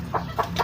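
A chicken gives three short, quick clucks at an even pace, close and fairly quiet over a low background hum.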